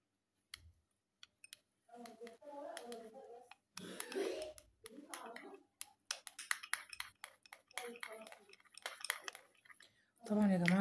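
Pizza sauce with ketchup, thyme and spices being stirred, a spoon clicking and scraping against a bowl in quick irregular taps, close by, with a voice talking in between.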